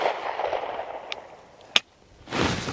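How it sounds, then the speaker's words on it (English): A single sharp shot from a Smith & Wesson M&P Shield Plus pistol cracks out close and loud after a faint earlier tick, followed by a short quiet and then a burst of broadband noise. "I'm gonna shoot that first shot"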